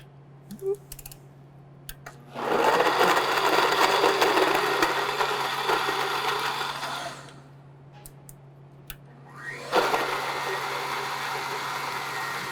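Kitchen blender pureeing cauliflower and parsnip with cooking liquid, whirring loudly in two bursts of several seconds each, separated by a pause, with a low hum and light clicks between runs.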